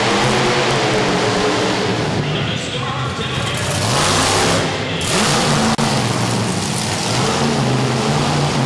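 Doug Noelke's Tailgator monster truck revs loudly at the starting line for round two of a Toughest Monster Truck race in Youngstown, Ohio, in 2012. A dense, roaring engine surges and dips in waves, close and continuous, with no talk.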